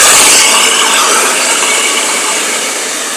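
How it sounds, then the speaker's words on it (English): A hair dryer blows loud and close during a haircut, a broad steady rushing airflow that fades slightly toward the end, with no talking. "a hair dryer is not meant to dry your hair; it's meant to shape your hair."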